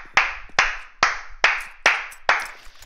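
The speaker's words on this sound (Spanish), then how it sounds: "yo me paro y los aplaudo a todos, muchachos." Six sharp hand claps ring out at an even, unhurried pace, each one crisp and close with a short decay.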